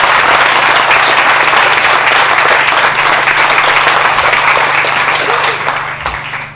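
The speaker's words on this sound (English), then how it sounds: "let's give a round of applause for the Christians, the Callihans" Loud, sustained applause from a crowd, many hands clapping steadily before tapering off at the end.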